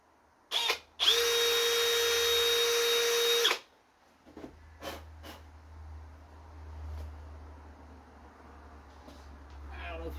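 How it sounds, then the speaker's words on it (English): Power drill boring holes in the engine block of a 1963 Chevy Impala to mount a power steering pump: a short burst, then one steady high whine lasting about three seconds, close by, followed by a low hum and faint handling noises. "Did a little bit of a drill."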